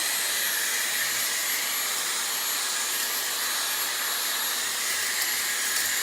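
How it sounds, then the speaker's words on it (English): Vacuum cleaner fitted with a Hoover attachment sucking dust out of a PC tower, a constant close high-pitched airy whine with no breaks. "Definitely not going to get all of that off just with this Hoover attachment"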